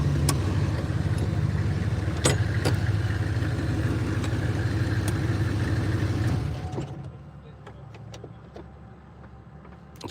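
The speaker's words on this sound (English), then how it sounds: "this is a lot of noise in this car" Diesel Humvee engine drone heard from inside the cabin, a loud steady low rumble that drops away sharply partway through, leaving quieter mechanical clicks and rattles.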